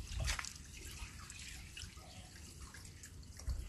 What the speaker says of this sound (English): Let me put this in the other water so we can use this fresh water.